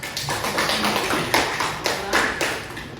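A high school class in a Catholic religion lesson gives dense, close applause with uneven surges, steady for several seconds and with no talk over it.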